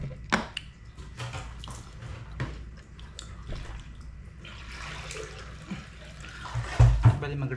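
Water runs steadily into a container as it is refilled in a boarding house, a soft continuous splash with small clinks and drips and faint voices in the background.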